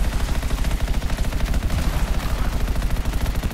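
Rapid automatic gunfire in the video game Anthem, a fast regular stream of punchy shots hammering close and loud for the full stretch, uninterrupted by talk.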